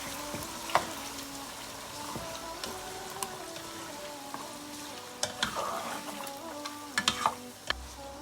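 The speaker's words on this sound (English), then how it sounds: "Then we give all of that a stir." Gambian mutton stew bubbles and sizzles in a pot while a spoon stirs through it, with soft scraping, intermittent metallic clinks and a steady frying hiss up close, and no one speaking.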